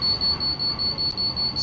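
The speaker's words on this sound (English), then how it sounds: "Switch that alarm off." Cab alarm in a Train Simulator locomotive on a London line, a steady high electronic tone pulsing rapidly and evenly, loud and close.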